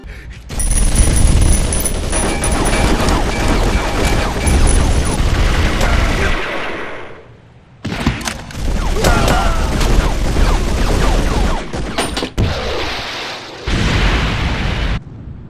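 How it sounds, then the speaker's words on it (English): Heavy bass-boosted gunfire from the anime film Jin-Roh: The Wolf Brigade, loud bursts and booming shots filling most of the stretch, with a short drop to near silence before the firing resumes. "I especially love this weird bass boost effect that they got going on with the guns, makes them really feel weighty and menacing."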